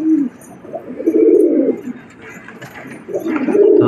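Pigeons coo nearby in several distinct bursts with short pauses between them, the rounded calls loud and clear against a quiet background.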